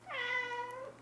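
A cat being cat-sat gives a single clear meow close by, rising then falling over about a second, alone in a quiet room.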